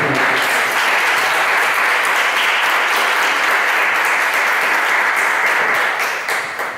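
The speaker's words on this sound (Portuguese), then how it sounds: "Aplauda o Senhor." Loud, sustained applause fills a church prayer meeting, a steady wash of many hands clapping close and even throughout, easing slightly at the very end.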